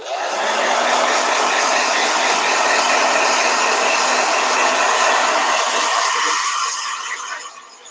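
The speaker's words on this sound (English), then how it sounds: "We are just getting quite a bit of blow dryer today" A blow dryer roars steadily and loudly, close up, while drying a Crayola watercolor painting of Ernie and Bert, then cuts off near the end with the whir fading away.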